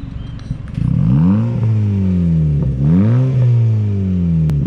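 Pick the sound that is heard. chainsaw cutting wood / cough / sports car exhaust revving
sports car exhaust revving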